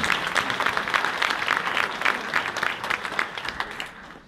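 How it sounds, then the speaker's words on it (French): A crowd applauds at a plaque inauguration ceremony in Azay-sur-Cher, France, with steady, dense clapping that holds level and then thins out toward the end. "On peut les applaudir"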